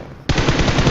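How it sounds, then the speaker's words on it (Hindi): Loud automatic gunfire from an enemy bot in a shooter video game, a rapid burst of shots that cuts in suddenly after a quiet start and continues steadily to the end, with no talk. "और तभी बॉट का फायरिंग साउंड आया"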